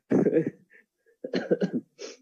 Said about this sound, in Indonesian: Mohon maaf saya sedikit batuk ini